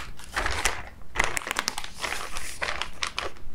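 A plastic shipping mailer for bicycle bags crinkles and rustles steadily up close, with crisp bursts of crackling throughout and no talking.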